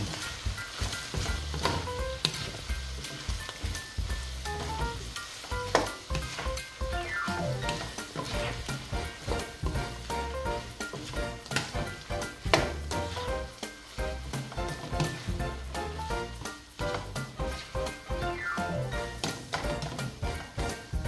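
Shrimp, broccoli, mushroom and young corn are stir-fried in a pan, crackling and sizzling under continuous stirring and clattering utensil taps, fairly close and busy throughout.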